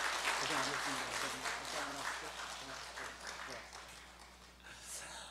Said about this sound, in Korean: 우리 박수로 축복해 주시면 감사하겠습니다